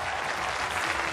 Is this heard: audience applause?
yes